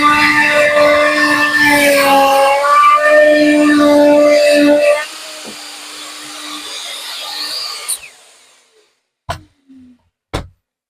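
A router mills outlet cutouts in wall panels using Parettool templates: a loud, close, wavering whine for about five seconds drops to a quieter run, winds down, and is followed by a few sharp clicks.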